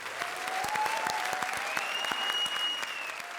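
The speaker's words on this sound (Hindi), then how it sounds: "जोरदार तालियां हो जाएं।" A comedy show studio audience bursts into brisk, continuous applause with sharp individual claps, moderately loud, and a faint whistle tone rises above it.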